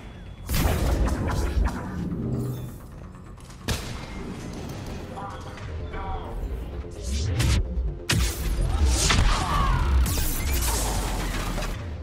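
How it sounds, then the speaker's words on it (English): Grenade blasts in Mass Effect 3 during combat, heavy booming thuds and crashes layered with continuous gunfire and game noise, with a sharp impact near the four-second mark and louder bursts toward the end. "you keep doing the fucking grenades"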